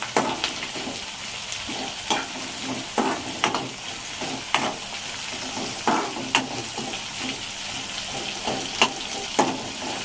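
Sliced bitter gourd sizzles steadily as it fries in a pan, with repeated scraping stirs of a spatula breaking through the hiss at an uneven rhythm, close and fairly loud, with no voices.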